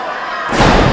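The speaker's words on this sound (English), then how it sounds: "Now Kameron Kade taken to the top rope. Go for a big superplex here" A heavy thud as a wrestler crashes onto the ring mat from a top-rope superplex, a loud, sudden impact that rises out of crowd noise in a pro wrestling match.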